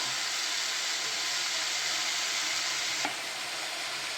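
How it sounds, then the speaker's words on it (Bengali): Boiled banana flower fries in a pan with a steady, soft sizzle and hiss, one faint clink or stir near the end, no voices. "একটু ভাজা ভাজা হতে থাক।"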